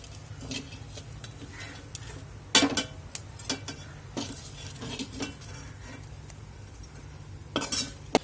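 Roasted dry spices for misal being scraped out of a pan onto a plate, with scattered close metal scrapes and clinks, two sharper knocks, and a faint background hum.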